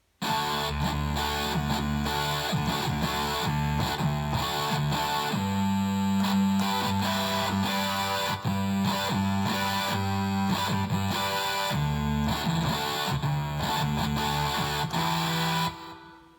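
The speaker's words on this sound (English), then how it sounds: "The distortion's a bit crusty there." A heavily distorted Casio MZ-X300 keyboard plays a loud, gritty sequence of sustained chords and bass notes, with crunchy fuzz throughout and no voices.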